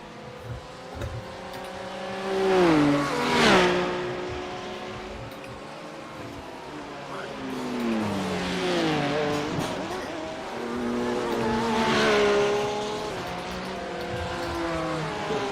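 Porsche GT3 race car engine in a racing video game at Montreal, rotating through the back chicane: revs drop and climb again with several gear changes, sustained and fairly loud, tires faintly squealing, no talk.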